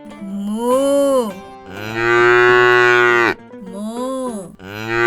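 A cow moos in a children's animal-sounds vocabulary lesson, three long, loud lowing calls one after another, close and clear with no talking over them.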